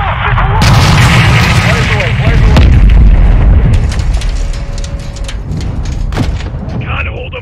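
Heavy gunfire and booming explosions from the video game Modern Warfare 2, a dense, loud barrage that stays constant throughout, with rapid shots and blasts layered under voices calling out in combat.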